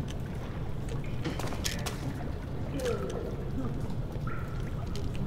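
Water moves and trickles steadily through the sewers in Amnesia: The Dark Descent, a continuous wash of sound with a few faint splashes and drips on top.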